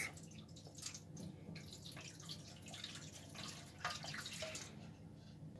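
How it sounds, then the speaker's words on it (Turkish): Warm milk poured into a tray for güllaç gives a faint, close liquid trickle and splash with a few light drips, continuing softly throughout. "Şimdi tepsimizin içerisine de biraz süt ilave ediyoruz."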